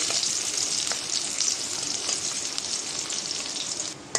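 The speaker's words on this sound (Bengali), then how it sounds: "পেঁয়াজ কুচি দিয়ে দিলাম পেঁয়াজটা ভেজে নেব হালকা করে" Chopped onion frying lightly in oil on a gas cylinder stove makes a continuous bright sizzle, close and fairly loud, with a few faint ticks and a small knock at the end.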